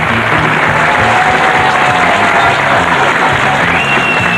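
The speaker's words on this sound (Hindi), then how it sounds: "जोरदार तालियां आशा जी के लिए।" Loud, sustained applause from a crowd at a picnic singing gathering, a dense steady roar of clapping with a faint tone running under it.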